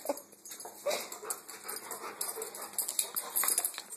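A dog whimpers and pants close by in short, restless bursts of yips and whines, with faint human voices in the background.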